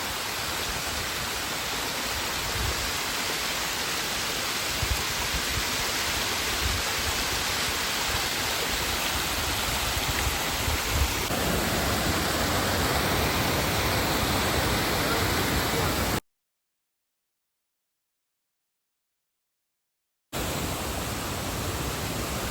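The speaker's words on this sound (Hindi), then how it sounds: "यहाँ पे जो है ना इस साइड में एक छोटा सा वाटरफॉल है, मिनी वाटरफॉल बोल सकते हैं आप इसको यहाँ पे" A small waterfall at Bamanbudo near Canacona in Goa pours in a steady, broad rushing hiss of falling water, continuous and fairly close, with a brief silent gap near the end.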